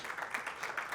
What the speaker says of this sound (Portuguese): O aplauso é para o Lewis Carroll